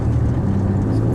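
A 2015 GM Colorado/Canyon pickup engine pulling uphill at around 3,100 RPM, a loud steady low drone heard from inside the cab, continuous for the whole moment.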